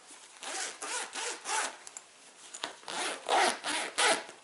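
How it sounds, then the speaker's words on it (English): Loud zipper on a Game Winner turkey hunting vest, pulled in a run of quick, rasping strokes close up, each zip a separate burst with short pauses between. "But we can't have loud zippers, right guys?"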